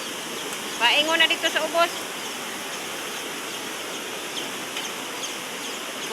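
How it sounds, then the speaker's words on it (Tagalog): Strong floodwater rushes where two streams meet, a steady broadband roar filling the whole clip, with a voice speaking briefly over it near the start. "Kusog kayong baha."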